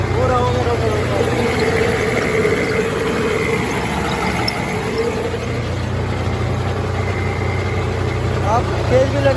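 A farm tractor with a rotavator attached idles and runs steadily in a field, a continuous low engine drone throughout, with someone talking over it.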